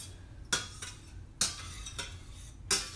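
A brass turner scraping and knocking against a stainless steel skillet, producing several sharp metallic scrapes and clicks at irregular intervals over a quiet background.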